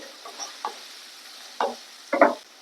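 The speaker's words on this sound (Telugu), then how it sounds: "కట్ చేసుకున్న ఉల్లిపాయ ముక్కలు పచ్చిమిర్చి ముక్కలు వేసి ఫ్రై చేసుకోవాలి" Chopped onion and green chilli pieces fry gently in a tempering while a spoon scrapes and stirs them in a few short bursts over a soft, quiet sizzle.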